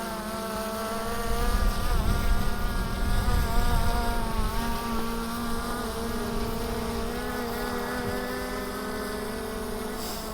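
A Skydio 2 drone circling a tree outdoors gives a steady, close, high-pitched buzzing whine from its rotors, swelling a little as it passes nearer, then holding even.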